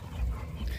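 A female dog at a bull-breed kennel makes brief, close, low snuffling and whimpering sounds with light panting, lasting under a second.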